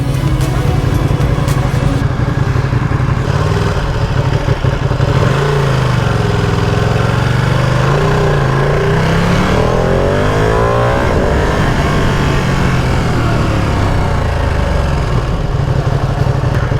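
A 2020 Ducati Panigale V2 motorcycle with an underbelly exhaust idles and revs loudly up close, a continuous throaty engine drone with rising and falling pitch sweeps as the throttle is worked.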